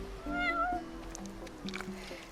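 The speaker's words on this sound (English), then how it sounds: "You're one spoiled cat." A cat meows in the video game Final Fantasy XV, one short rising call near the start followed by quieter game ambience with faint background tones.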